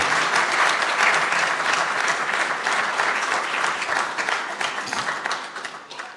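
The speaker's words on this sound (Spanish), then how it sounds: "Démosle un aplauso al Señor por eso, por la iglesia obediente." Loud applause from a church congregation during a sermon, a dense burst of many clapping hands that slowly tapers off toward the end.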